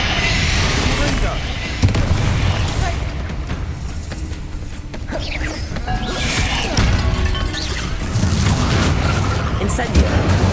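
Fiery spell blasts from Hogwarts Legacy combat boom repeatedly, heavy explosions and crashing impacts landing one after another, with a voice calling out spell names between them.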